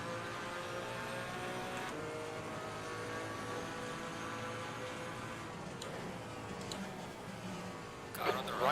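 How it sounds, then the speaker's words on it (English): Engine drone of a GT4 race car in Assetto Corsa Competizione during an endurance race at Kent, a steady sustained roar alongside with a brief rising rev near the end, while someone talks over it. "Car on the right. Right side."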